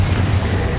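A Confringo spell blast in the video game Hogwarts Legacy lands as a loud, deep booming rumble that fills the moment without any voices.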